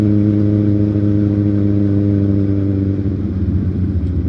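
A Kawasaki Z1000 motorcycle on a night ride gives a loud, close engine drone with a steady harmonic hum. The pitch eases and roughens toward the end as the revs change, and no one speaks.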